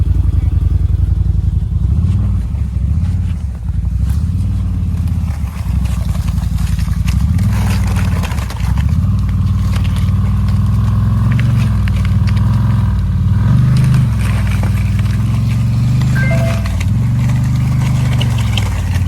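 A ZForce 950 side-by-side creeps slowly into water, its engine loud and near, rumbling low and steady with gentle rises and dips in revs, some clatter, no voices.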